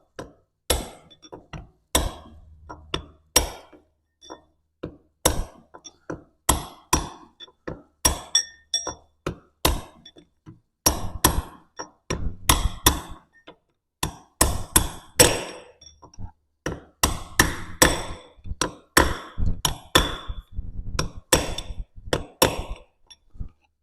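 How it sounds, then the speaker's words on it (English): Seals are hammered into the axle housing of a 1970s Pug UTV transaxle: sharp, ringing metal strikes come close and loud in irregular bursts, with short pauses between groups of blows. "I'm just hammering them in until they are flush with the outside end of the flange, the housing, the axle housing here."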